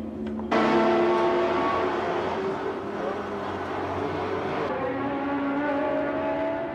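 Modified 750cc F1-class racing motorcycles at Suzuka Circuit in Mie, Japan, a loud sustained engine roar that starts abruptly and holds steady near the listener, shifting pitch partway through as the bikes pass.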